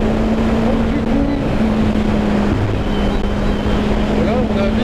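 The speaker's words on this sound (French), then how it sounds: "Il y a énormément de vent." Strong wind buffets the microphone while a motorcycle is ridden, a loud continuous roar and rumble with the engine hum underneath and speech partly masked.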